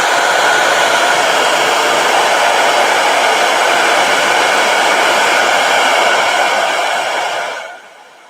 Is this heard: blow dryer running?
yes